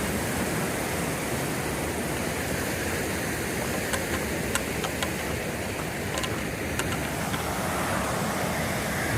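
River water pours steadily beneath a rickety old wooden bridge on the Middle Kings Fork, a continuous broadband rush close at hand, with faint sharp clicks and taps scattered through the middle.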